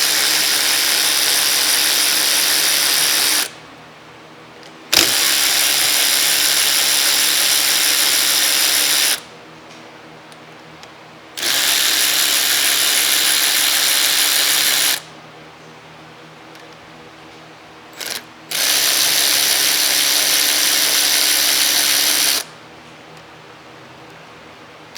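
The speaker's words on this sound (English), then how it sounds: "with our electric wrench, let's go ahead and start taking these off" An electric impact wrench whirs in four long, loud bursts of several seconds each, separated by short pauses, while it backs out brake caliper bolts on a 2015 Hyundai Genesis.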